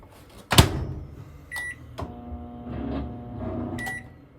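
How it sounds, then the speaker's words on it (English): A microwave oven in a 2022 Forest River No Boundaries NB19.3 travel trailer hums steadily after a door thud, with a few short beeps from the control panel. "For your microwave, it's a microwave."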